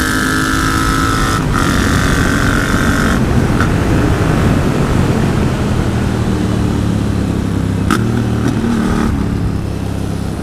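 A Yamaha MT-07 motorcycle fitted with an AliExpress exhaust and a homemade dB killer rides along with a continuous, fairly loud engine drone and wind rush, with pitch shifting slightly as the revs change.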